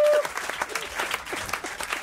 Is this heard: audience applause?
yes